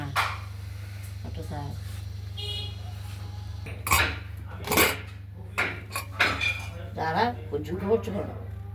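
A pressure cooker lid is opened on a cooked moong dal, giving several close metallic clinks and clanks of the pot and lid over a steady low hum.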